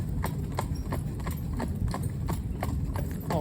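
A veteran horse's hooves clip-clop at a steady walking rhythm, crisp regular strikes over a low rumbling background.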